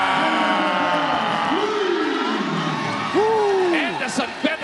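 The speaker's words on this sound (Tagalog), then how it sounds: "And the San Beda crowd has come to life." San Beda fans in a packed arena at a PBA Aspirants Cup basketball game roar and cheer in a sustained wash of crowd noise, heard under excited play-by-play commentary.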